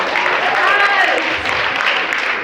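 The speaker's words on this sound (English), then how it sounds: "Thank you for clapping." Clapping from a comedy show audience forms a steady bed of applause, with a voice talking over it through the first half.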